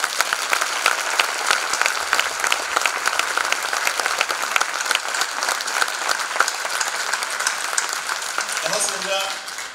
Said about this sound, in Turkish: kocaman bir alkışlayacağım